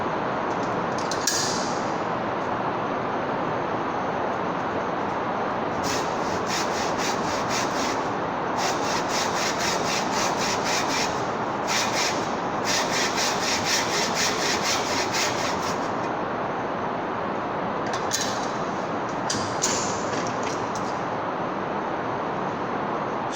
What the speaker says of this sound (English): I'm going to flip it over and cut the same thing on the other side.